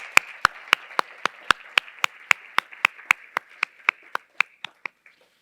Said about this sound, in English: Just another round of applause.